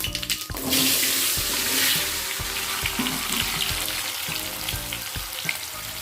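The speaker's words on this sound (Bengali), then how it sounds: "এবারে সেদ্ধ করে রাখা আলুগুলো তেলের মধ্যে দিয়ে ভেজে নেব" Boiled potatoes drop into hot oil tempered with whole cumin in a pan, a loud burst of sizzling frying that settles into a steady crackle, with intermittent scraping of a spatula stirring.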